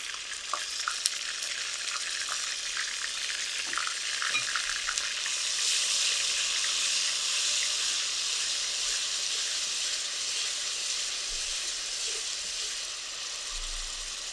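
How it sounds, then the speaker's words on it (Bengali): Ginger-garlic paste and spices hit hot oil in a pan where chicken was just fried, producing a steady, bright sizzle and hiss that swells slightly midway and holds without any talking. "আর এইটাতে আমি মশলাগুলো দিয়ে দিব এই তেলে আর কি"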